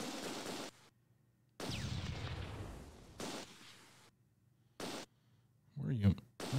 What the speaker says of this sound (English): Idiot's still shooting, though.